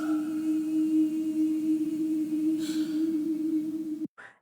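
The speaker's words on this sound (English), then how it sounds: "nobody knows for sure what this gasp means" A breathy sustained gasp from the character Eliza in the musical Hamilton hangs steadily over a low held tone, then cuts off abruptly near the end before a brief faint after-sound.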